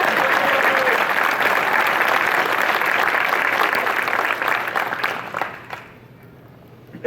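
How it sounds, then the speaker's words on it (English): Conference audience at WordCamp US 2025 applauds for the plugins team, a dense, loud roar of clapping that holds steady for about five seconds before thinning out and fading near the end. "do you mind standing up really quick so we can give you a round of applause?"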